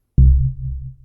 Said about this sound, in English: The first one was the sub.